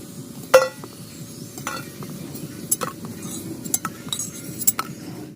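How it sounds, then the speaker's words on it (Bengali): Fried soya chunks shaped like fish are lifted from a pan of hot oil, giving a soft steady sizzle with several sharp metal clinks and scrapes of a utensil against the pan, close and without talk. "বন্ধুরা ভাজা হয়ে গেছে আমি এবার তুলে নেবো"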